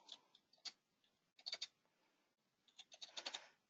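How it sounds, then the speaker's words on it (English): Quiet, close keyboard typing as a ticket number is entered, with short bursts of crisp key clicks separated by brief pauses, ending in a rapid cluster of keystrokes. "so I'm just going to type it in."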